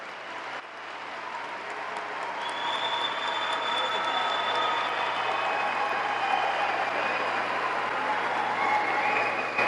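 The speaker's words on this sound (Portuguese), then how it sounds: "Uma salva de palmas." Congregation at a pastoral ordination service of the Free Methodist Church in Brazil applauding, a broad, moderately distant wash of clapping that swells and holds steady, with some faint tonal sounds over it.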